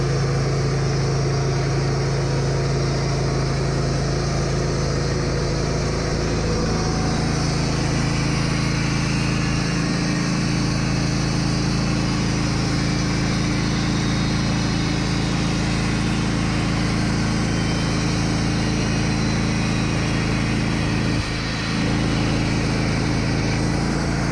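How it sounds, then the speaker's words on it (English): Wood-Mizer LT15 sawmill cutting boards from an oak log, a loud, steady engine drone and blade whine running without a break, with no talking. "So we start cutting boards and making more sawdust."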